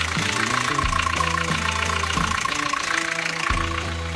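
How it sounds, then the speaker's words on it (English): A sailboat's diesel engine with new injectors and a rebuilt fuel pump idles steadily and close by, a loud, even mechanical chug with a knocking pulse that runs unbroken throughout. "She's just idling perfectly."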